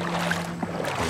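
Gentle close sloshing of legs wading through Lake Biwa's shallows while bass fishing from shore, a short, quiet swirl of moving water with a faint steady hum beneath.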